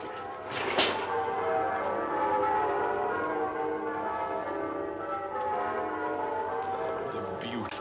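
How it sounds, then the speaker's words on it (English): Church bells peal continuously on a Christmas morning during a live Scrooge performance, a dense, sustained ringing at moderate volume with a sharper strike near the start and steady resonance throughout. "The bells. The merry, merry bells."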